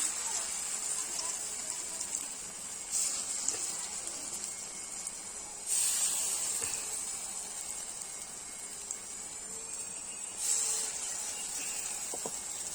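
Pumpkin leaf fritters fry in hot oil in a pan, giving a steady bright sizzle that swells in a few louder hissing bursts, with no talking over it.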